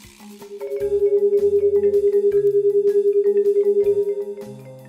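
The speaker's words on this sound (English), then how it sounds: "If we have two tuning forks, we can have two different frequencies." Two tuning forks at 400 and 410 Hz sound together as a steady pure tone throbbing with regular, even beats, swelling and fading rhythmically about ten times a second, over faint background sounds.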